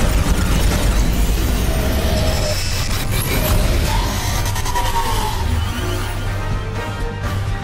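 A loud movie explosion as a mech is blasted, with a sustained roaring boom and rumble that stays dense and heavy for the whole stretch.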